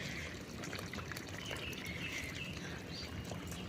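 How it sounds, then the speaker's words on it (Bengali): Tap water runs from a garden hose pipe onto plants in a home garden with a steady, soft trickling and splashing hiss, faint and continuous, with a few bird chirps in the background. "কলে জল এসছে, পাইপ করে জলটা দিয়ে দিই।"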